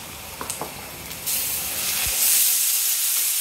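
Ginger, garlic and cumin paste goes into frying onions for a catfish curry, and a few soft clicks give way to a sudden loud, steady hiss of sizzling that swells further near the end.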